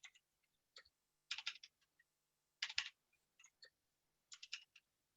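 Someone types on a computer keyboard in short, irregular bursts of crisp clicks, close and quiet, with no talk.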